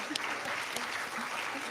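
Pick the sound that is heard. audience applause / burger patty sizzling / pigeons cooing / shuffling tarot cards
audience applause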